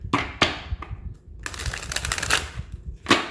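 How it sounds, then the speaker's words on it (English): Tarot cards from a Twin Flames Soulmate Hybrid deck riffled and shuffled in a few quick bursts, close and crisp, with short pauses between the flurries. "We get one more good shuffle."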